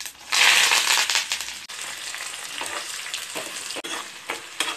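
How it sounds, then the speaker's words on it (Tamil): Chopped shallots and curry leaves hit hot oil in a pan with a loud, steady crackling sizzle, a burst right at the start settling into continuous frying with scattered stirring scrapes. "இப்போ வெட்டி வச்சுருக்க சாம்பார் வெங்காயம் கருவேப்பிலை இதையும் போட்டுடலாம்"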